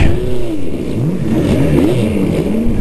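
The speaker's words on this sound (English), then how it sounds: "pulling out of the pits just to let you get a couple glimpses of the cars and the pace car" A Super Vee open-wheel race car pulls out of the pits at Willow Springs during a historic race weekend, its engine revving up and down in several rising and falling sweeps, loud and close with no talk.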